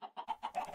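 Chickens in a Minecraft chicken farm cluck in a quick run of short, close, repeated calls.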